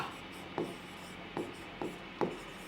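Chalk or a marker scratches a line of writing across a classroom board in four short, separate strokes, each a quick rasping scuff, heard fairly close over a faint room hum.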